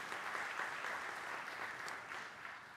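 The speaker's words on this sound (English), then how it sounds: "Let's give her another round of applause." Sustained applause from a crowd, steady clapping that holds at an even level throughout without voices.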